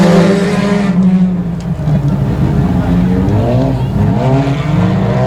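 Stock race cars roar at the start of a race at Texarkana 67 Speedway, a loud continuous pack of engines with shifting, overlapping pitches as the field accelerates, with an announcer talking over the noise.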